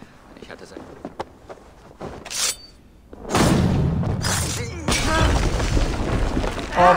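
An in-game explosion in Assassin's Creed Valhalla: scattered thumps and footsteps, then a sudden loud boom with shattering debris and a long rumbling tail, while someone talks over it.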